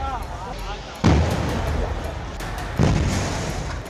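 Two sharp, booming explosions about two seconds apart as gas cylinders blow up in a fire at an illegal refilling shop in Gonda, each followed by a rumbling tail, with a voice speaking underneath.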